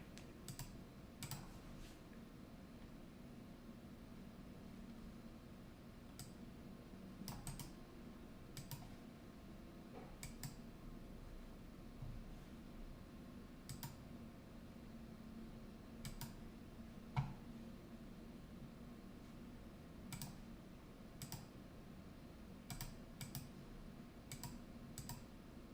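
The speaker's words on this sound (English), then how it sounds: "I'm just typing this down" Soft, scattered keystrokes on a computer keyboard, quiet and somewhat distant, irregular clusters of taps over a low room hum, with no talking.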